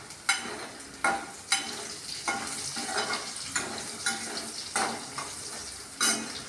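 Potato, onion, garlic and green chillies frying in a pan, a soft continuous sizzle broken by a run of sharp clinks and scrapes as a spoon stirs the pan at irregular intervals.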